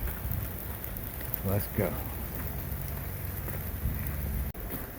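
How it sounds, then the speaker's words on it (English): Steady rain falls on the Appalachian Trail near the Potomac, a constant soft hiss over the whole span, with a brief spoken remark partway through. "rain's let up a little bit"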